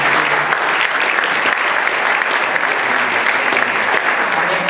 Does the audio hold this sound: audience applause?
yes